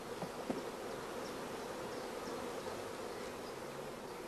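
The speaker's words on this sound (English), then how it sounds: "All bees are brushed from the other frames" Honey bees buzzing steadily as they are brushed off hive frames, a dense, even hum close by with a few faint brushing ticks and no voices.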